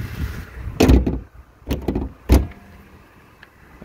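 A 2021 Jeep Grand Cherokee Laredo's hood is lowered and closed, giving a few loud, close metallic thumps and clunks in quick succession, then a quiet background without talking.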